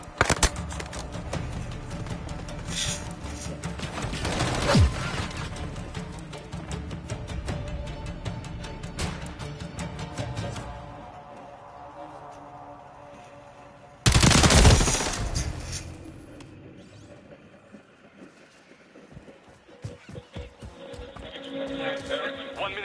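Gunfire in Call of Duty Modern Warfare: bursts of rapid automatic fire and sharp single shots, loud and close at first, then a quieter stretch with another heavy burst and scattered distant shots under occasional voice chatter.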